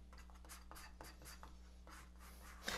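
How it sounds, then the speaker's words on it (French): Brushing or palette-knife strokes mixing Liquin medium into warm titanium white oil paint, a series of soft, faint scraping swishes in a quiet room, each stroke brief and close. "je vais mélanger mon liquin avec ce blanc chaud"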